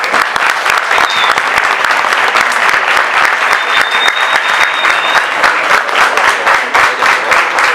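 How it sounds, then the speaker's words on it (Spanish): Audience at a Spanish-language panel talk on life on other planets giving a long, loud, steady round of applause with dense clapping throughout. "por favor, un gran aplauso."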